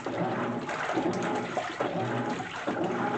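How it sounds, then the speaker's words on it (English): A GE washing machine agitates a load of decorative pillowcases on the Casuals cycle, with water steadily churning and sloshing throughout, close and continuous. "And see how much better the wash action is?"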